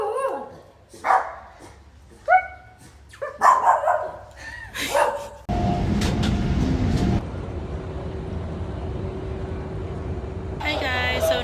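A dog barks several times in short bursts, mixed with talking voices, before a loud, steady rumble like a train takes over for the rest of the stretch.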